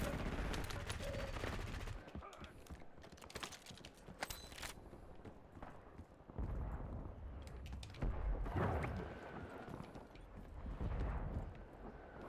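Dense gunfire in a shooter video game, bursts of automatic shots crackling close and steady across the whole stretch, with a few heavier hits and swells.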